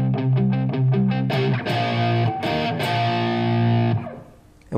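Heavily distorted electric guitar hammers out power chords in a driving rhythm, a quick triplet phrase leading into sustained, loud chords that ring close and alone before cutting off.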